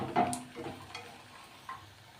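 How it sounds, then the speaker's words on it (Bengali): Lentil dumplings (bori) fry in oil for a bottle gourd dish, a soft sizzle broken by a few light scraping stirs and clinks, close and fairly quiet. "বড়িগুলোকে একটু লাল করে ভেজে নেব।"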